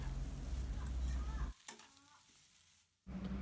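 Potato masala sizzles and fries in a pan while it is stirred and scraped around, the noise dipping briefly before the sizzling returns.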